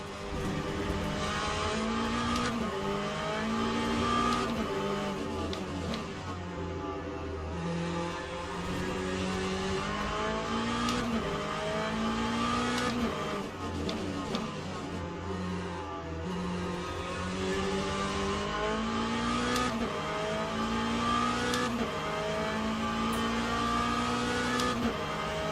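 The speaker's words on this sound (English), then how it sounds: "I've got the main pack of the Hypercars coming through again" Hypercar race cars passing in the Le Mans Ultimate racing game at Fuji, multiple engines rising and falling in pitch as the pack streams by, with repeated gear-shift revs and a continuous loud, layered engine drone.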